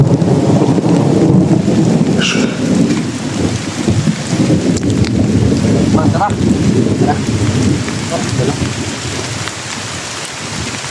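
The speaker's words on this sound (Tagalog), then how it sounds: "Lakas na yung ulan." Heavy rain pours down steadily outdoors near a camp, with a few rumbles of thunder rolling underneath and people talking now and then over the downpour.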